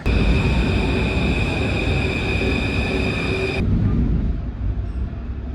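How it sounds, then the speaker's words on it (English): Riding inside a Paris Metro train: a loud, continuous rumble of wheels on rails carrying steady high whining tones that cut off abruptly partway through, leaving a lower, rougher roll with no talking. "I'm actually taking the Metro."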